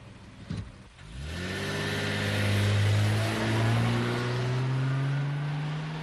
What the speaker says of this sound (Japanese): さあ車を出して